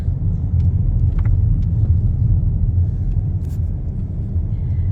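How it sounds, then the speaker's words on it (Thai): A car driving along a road in Finland, heard from inside as a loud, steady low engine and tyre rumble that holds constant throughout, with faint small rattles and no talking. "นี่เรากำลังขับรถไป หา ห้องที่เราจะอยู่นะคะ"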